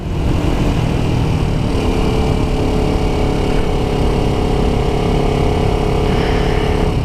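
Steady, loud car engine drone climbing a mountain road through switchbacks, with a low continuous rumble and rising whine throughout as the driver downshifts out of fourth gear; no talk.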